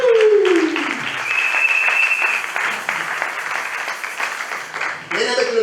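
Church congregation applauding at a Sunday service, dense sustained clapping throughout with a voice calling out at the start and again at the end over the crowd.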